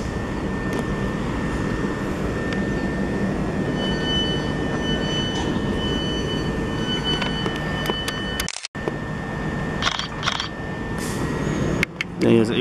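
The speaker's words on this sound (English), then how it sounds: "There he is, 810 going away," A steady, loud mechanical rumble and hiss of a Southeastern stopping-service train departing Waterloo East station, continuous throughout with a brief dropout and some clicks near the end.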